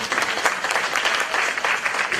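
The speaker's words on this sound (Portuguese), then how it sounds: "E essas palmas são para todos os agricultores" An audience breaks into applause during a talk by an urban farmer about farmers, a steady close wash of clapping from many hands lasting a couple of seconds, with no voices over it.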